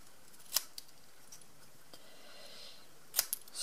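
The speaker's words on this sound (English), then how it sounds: "I'm going to be very brave and trim a little bit more off" Close, crisp scissor snips trimming a narrow strip, with two distinct sharp cuts separated by a few seconds of near silence and a couple of faint clicks.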